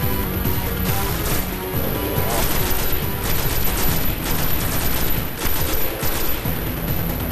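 Dense, continuous gunfire from the shooter game Destiny, with rapid overlapping shots and bursts crackling loudly and without a break.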